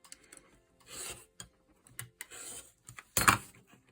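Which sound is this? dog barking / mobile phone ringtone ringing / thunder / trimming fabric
trimming fabric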